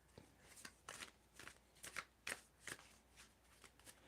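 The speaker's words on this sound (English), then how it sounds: "if you feel the need for me to stop shuffling, I will stop shuffling" Tarot cards being shuffled by hand in a run of soft, quick riffling bursts, close and quiet, with a regular rhythm of crisp card flutters and short pauses between them.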